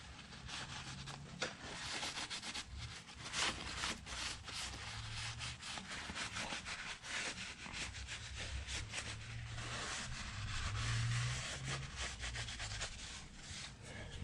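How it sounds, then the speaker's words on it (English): A rag wipes down the gasket surface of a modified D-19 engine block in continuous soft scrubbing strokes, quiet and close, with no talk. "Just gonna do one more little wipe down where the gasket goes."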